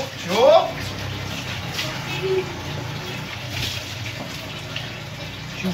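Water is poured over a dog during a bath, a continuous splashing gush with a stronger surge near the start, and voices are faintly present underneath.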